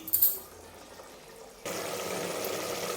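Rice is washed in water: water sloshes and swirls in a container, starting quietly with a few clinks, then becoming a steady, close rushing wash.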